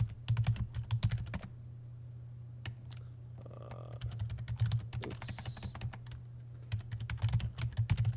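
Keystrokes tapped on a computer keyboard in quick bursts, with a lull of a few seconds in the middle, over a steady low electrical hum in a quiet room.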